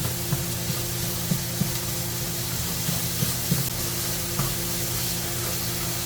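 Lean sausage fries in a skillet with a steady, close sizzle and crackle, broken by faint scattered pops and ticks.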